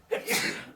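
A single sharp sneeze, close and fairly loud, with a quick intake followed by a breathy burst that trails off.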